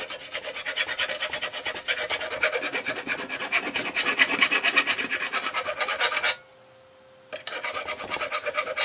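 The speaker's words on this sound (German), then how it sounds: "Da nehmen wir praktisch eine Feile für." A hand file rasping paint off a heating door lock in quick rhythmic strokes that stop briefly for about a second near the end before resuming.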